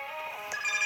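An electronic telephone ring in the video game Pizza Factory Tycoon, a brief tonal chirping tone, clear and close, over a faint game background.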